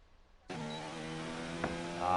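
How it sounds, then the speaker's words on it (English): Formula 2 racing car engine sound from a video game broadcast cuts in abruptly after a near-silent moment, a steady buzzing multi-tone drone with a brief sharp blip, growing slightly louder toward the end. "we've just got engine noise back"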